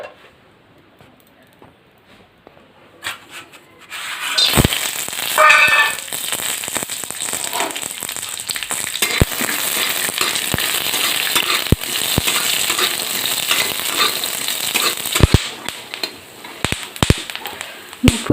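Peanuts frying in hot oil in a kadai, with a steady crackling sizzle that starts after a quiet opening and continues with scattered sharp pops and taps, close up, and a voice talking at times over it.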